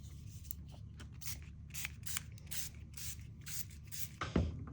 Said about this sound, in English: Brushed Pewter Mica Spray.